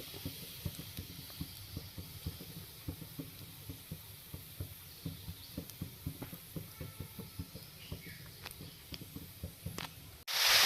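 Spices tempering in hot oil for a Marathi-style cauliflower curry, with a steady crackling sizzle and a regular rhythm of stirring taps against the pan, ending in a brief louder burst.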